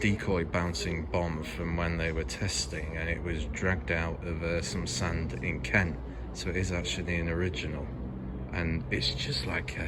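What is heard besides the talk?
No everyday noise stands out behind the speech.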